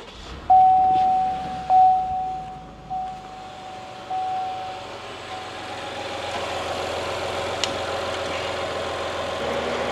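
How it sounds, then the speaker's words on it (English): A car engine cranks and catches with a few sharp bursts and a tone from the dash, then settles into a steady, moderate idle hum for the rest of the clip, with no talking. "now we'll start up the vehicle."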